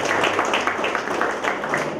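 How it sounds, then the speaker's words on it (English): An audience at a 50th-anniversary church ministry celebration applauds a boys' performance with dense, fairly loud clapping that holds steady for the whole stretch. "Let's give them a big round of applause."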